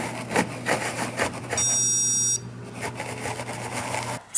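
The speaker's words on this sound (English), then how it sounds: "So here we're going to use a stud detector to locate the beams" A stud detector gives a steady electronic beep lasting under a second while it is slid across a ceiling to find beams. Soft scraping and rubbing surround the tone.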